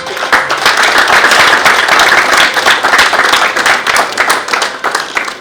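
Audience applause at the Nashik Leadership Awards 2023 ceremony, steady dense clapping from a crowd that holds loud and even for several seconds before tapering slightly at the end.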